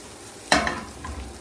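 Onions cooking in a pan on the stove, one sharp clattering scrape or stir followed by a soft, low sizzle that fades back into quiet.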